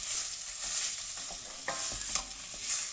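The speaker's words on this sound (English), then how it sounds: "Just break that up with a wooden spoon." A wooden spoon breaks up sausage frying in a hot pan for a quick sausage pasta, giving a steady loud sizzle with a few sharp scrapes and knocks of the spoon against the pan. Nobody speaks.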